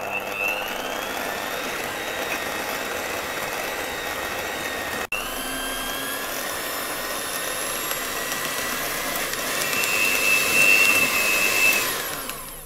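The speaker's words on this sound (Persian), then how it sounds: "بعد از اینکه یه مقداری پودر قند و روغن رو با هم مخلوط کردم از همزن برقی استفاده میکنم" An electric hand mixer whips powdered sugar and oil into a cookie dough base for ginger cookies, giving a steady, loud motor whine that holds without a break and rises slightly in pitch near the end.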